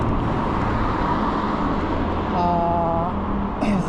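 Steady broadband road noise from an iKingi S6 Pro electric scooter coasting along after a brief throttle, a continuous rolling rumble with a faint tonal whine appearing near the end.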